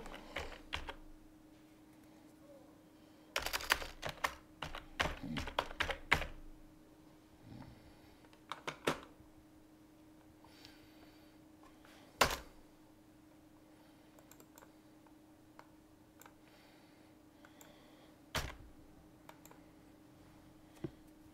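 Computer keyboard typing while writing code, soft irregular bursts of key clicks with pauses between, some short rapid runs and isolated taps over a faint steady hum.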